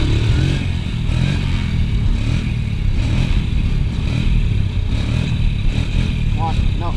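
An ATV engine droning and revving on a road during wheelie attempts, a steady loud rumble with rattling, and a voice heard faintly over it near the end.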